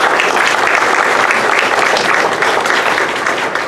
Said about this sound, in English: Round of applause for Rick Gardner for joining us.